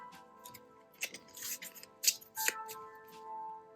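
A pile of counter cards is shuffled during an Arkham Horror board game, giving soft riffling and tapping bursts over a low steady background hum.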